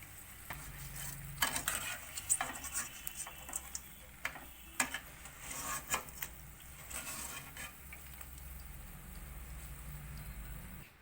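Okra (vendakkai) frying in oil until crispy: a soft, continuous sizzle and crackle with light scraping and tapping, fairly faint, no voices.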